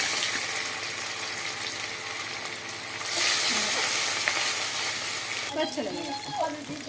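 Katla fish fries in hot oil with a steady, dense sizzle close to the pan, swelling briefly midway, while utensil clinks and faint shuffling appear near the end.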